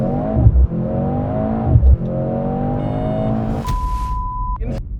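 Mercedes-AMG C63 SE, a four-cylinder sports sedan, launches hard under launch control, with rising engine revs interrupted by quick gear shifts, loud and close, before the run ends with a sharp cutoff.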